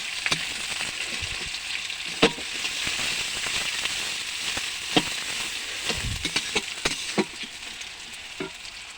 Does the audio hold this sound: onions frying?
yes